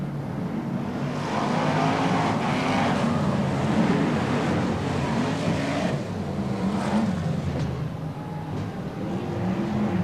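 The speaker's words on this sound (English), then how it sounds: "Cars out on the raceway." BriSCA Formula 1 stock cars racing around the Boston raceway in 1993, a steady distant roar of several engines blending into a continuous wash with rising and falling surges, no voices over it.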